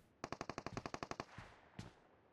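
A rapid burst of automatic gunfire in PUBG Mobile, about a dozen sharp shots in quick succession, then two more isolated shots trail off in the distance.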